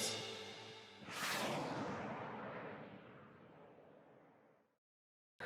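Rocket launch effect: a sudden roaring whoosh erupts after a low rumble, then a long broad blast that fades out gradually over several seconds before cutting to silence.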